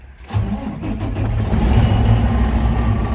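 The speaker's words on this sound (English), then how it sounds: "Now I'm going to start the engine, build a pressure, but no more than 140 psi" A truck engine cranks and starts, then runs at a steady, loud mid-pitched idle while air brake pressure builds, with no talk over it.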